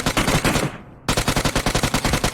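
Rapid UMP submachine gun fire in PUBG Mobile, loud close bursts of evenly spaced shots, a short stream, a brief pause, then a longer sustained burst.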